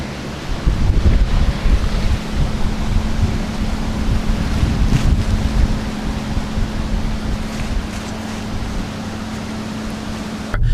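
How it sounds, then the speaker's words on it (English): Strong outdoor wind buffeting a camera and tripod at a painting session produces a loud, continuous, roaring rumble that fills the whole stretch, with no voices. "The wind was so bad that the camera was shifting even though it was locked in place."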